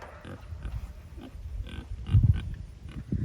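Pigs grunt and oink repeatedly at close range while being loaded into a hog hauler trailer, with a louder burst of grunting midway and farm background noise underneath.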